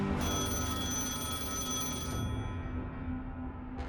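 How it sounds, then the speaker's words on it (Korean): An old telephone bell rings continuously and fairly loudly in a rapid metallic trill, alone with no talk, then cuts off abruptly near the end. "이때 전화가 한 통 걸려옵니다."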